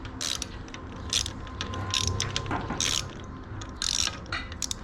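A ratchet clicks in quick rhythmic bursts while tightening a spark plug on an M44, close and fairly loud over a steady low hum.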